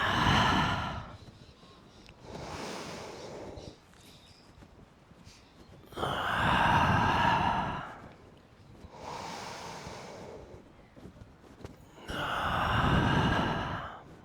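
Slow, deep breaths during a yoga class, each long inhale and exhale rising and falling like surf in a regular rhythm of about three breaths over fourteen seconds, close and alone without talk.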